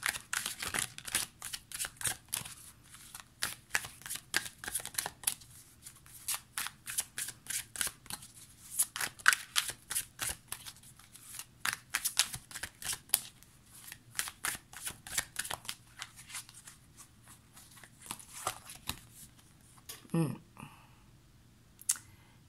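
Tarot cards are shuffled and drawn in a steady run of crisp, rapid riffling flicks and snaps, close and fairly quiet, continuing for over twenty seconds with a brief soft voice near the end.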